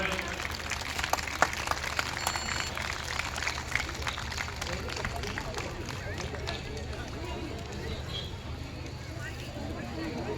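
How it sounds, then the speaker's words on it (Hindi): An audience at a large Hindu gathering claps continuously to welcome a speaker onto the stage, a dense, steady wash of applause at moderate loudness, with faint murmuring underneath. "जोरदार तालियों से स्वागत"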